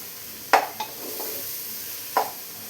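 Vegetable pulao being stirred and mixed in a pressure cooker, a few sharp spoon scrapes against the metal pot over a soft sizzle, close and fairly clear with no talking.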